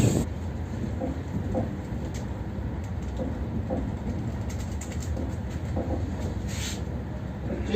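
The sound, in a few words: Rajdhani Express train hauled by WDP4 diesel locomotive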